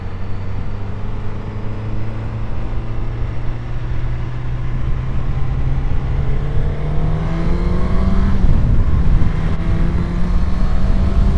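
A Suzuki GSX-S1000GX motorcycle engine drones while riding, a loud, steady hum that rises gradually in pitch as the bike accelerates, with rushing wind layered over it and no talking.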